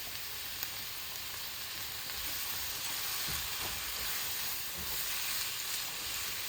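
Garlic and chili paste sizzles steadily in a pan, a soft, even hiss and crackle with occasional stirring knocks, fairly faint and continuous, no talking.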